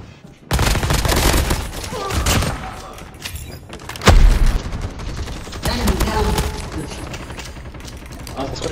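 A Man-O-War rifle loaded with thermite ammo fires during a Call of Duty battle royale match, loud rapid volleys and booming hits layered over constant game noise, with a voice talking at times.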